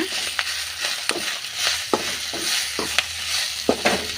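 Curry leaves frying in hot oil for a greens chutney, a close, continuous sizzle broken by sharp scraping stirs and clicks of a spoon against the pan at an uneven rhythm.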